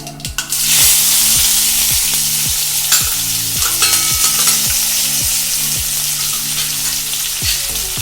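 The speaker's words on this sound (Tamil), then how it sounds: "சேர்த்துட்டு நல்லா வதக்கிக்கோங்க." Small shallots, half a tomato and curry leaves sautéing loudly in hot oil for mutton liver fry, a steady close sizzle with repeated scraping stirs of a spatula against the pan throughout.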